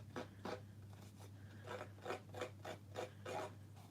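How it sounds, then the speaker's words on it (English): Rhythmic rasping strokes of a tool burring the edges of a paper greeting card, about eight short scraping bursts in a steady back-and-forth pattern, close and fairly quiet over a low steady hum. "So you're going to burr off the edges of your card."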